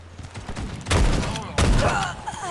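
Two sharp, loud bursts of gunfire from the video game Guns of Boom, each a sudden blast trailing into rattling decay, with game sounds around them.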